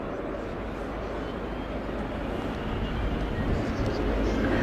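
Airbus A400M Atlas military transport aircraft in a tactical flying display at the RIAT airshow, Fairford, giving a steady, loud broadband engine roar that swells slightly toward the end, without any break or talk.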